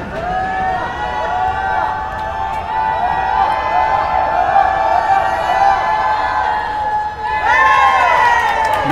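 A basketball crowd at a São Paulo versus São José game in the Campeonato Grande São Paulo roars and cheers wildly, with sustained loud noise, whistling and shouting that swell again near the end.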